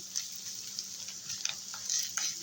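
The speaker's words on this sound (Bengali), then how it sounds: "ডিমটাকে একটু ভালো করে ভেজে নেব" Fish roe fries in oil in a pan with a steady, fairly quiet sizzle, punctuated by small pops and a few soft scrapes of stirring.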